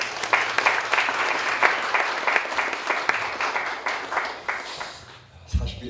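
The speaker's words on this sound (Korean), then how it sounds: "우리 박수로 모시겠습니다" A church audience claps steadily for several seconds to welcome a pastor at a leadership inauguration thanksgiving service, sustained dense applause that thins out and fades near the end as a voice begins.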